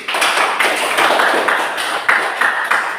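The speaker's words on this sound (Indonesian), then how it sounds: "berikan tepuk tangan dulu" Classroom audience clapping after a presentation, a dense, lively patter of many hands at steady volume with a few sharper individual claps standing out.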